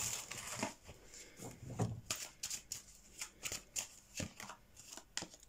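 Oracle cards being shuffled by hand during a tarot-style reading, a soft papery riffling and slapping in irregular bursts, close but quiet, with no talking over it.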